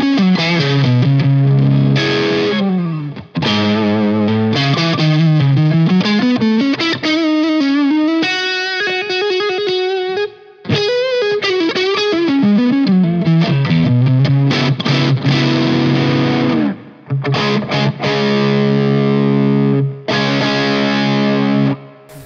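Electric guitar through a Laney GHR series amp with mild overdrive, drive set just past half, playing a continuous melodic run of sustained, gently crunchy notes at strong level for over twenty seconds with only brief gaps.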